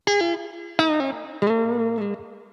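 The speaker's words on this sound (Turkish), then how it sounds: "Dikkat ederseniz yaylı reverb simülasyonu." Three plucked electric guitar notes ring out through a Line 6 Micro Spider amp set to its spring reverb simulation, each strike loud and decaying with a lingering reverberant tail, no voices.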